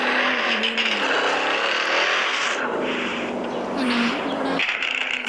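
Car drifting, the engine held high and steady while the tone slides and dips, with long tyre squeal stretching across the loud, close pass.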